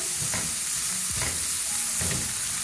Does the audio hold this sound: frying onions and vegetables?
yes